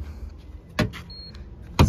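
Keyless unlocking of a Renault Arkana: two distinct, close lock actuator clunks about a second apart, with a short faint beep between them, in an otherwise quiet setting.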